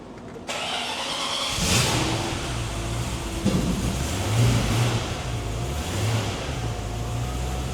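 A car engine cranks with a loud whirring starter, then catches and settles into a rumbling, uneven idle that continues close by.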